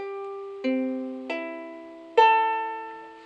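Three plucked ukulele chords ring out clearly and in tune, each strum decaying slowly before the next, with no talking.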